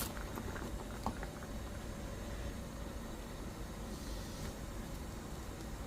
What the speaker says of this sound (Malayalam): നന്നായിട്ട് തിളച്ച് കറി ഒന്ന് ചെറുതായിട്ടൊന്ന് കുറുകി വന്നു.